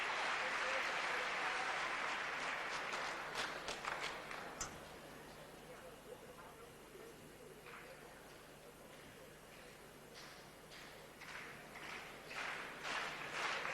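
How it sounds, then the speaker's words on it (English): Danish crowd at the 1991 Badminton World Championships applauding Sarwendah in an indoor arena, a dense burst of clapping that fades over several seconds, then scattered claps and rising cheers again, with commentators talking. "Danish crowd getting behind Sarwendah."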